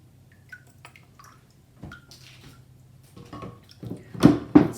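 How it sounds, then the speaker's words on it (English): Water drips and trickles from a shaken paper-making screen: a few scattered small drips, then louder splashy bursts of water near the end, close and otherwise quiet. "Kind of shake it a little bit, get some of that water out"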